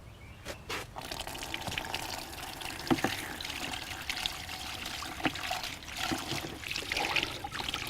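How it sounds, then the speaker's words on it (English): Paint roller rinsed under a tap into a bucket, close-up running and splashing water with gurgling trickles and occasional knocks, steady and fairly quiet throughout. "we can go straight under the tap into the bucket and rinse it off with water"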